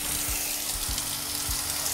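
Steady hissing spray of water leaking under pressure from a faulty pressure washer, with a low mechanical hum and occasional soft knocks.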